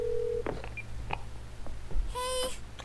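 In the video game Twelve Minutes, a phone call is placed: a few quick dial tones beep, then a ringback tone pulses near the end, with faint room noise beneath.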